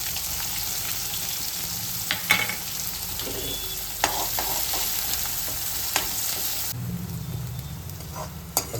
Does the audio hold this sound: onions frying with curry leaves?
yes